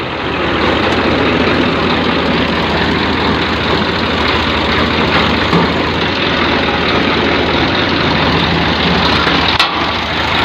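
A 1997 Swaraj 855 double-clutch tractor engine idles steadily and loudly up close, a continuous heavy diesel rumble throughout, with no talking.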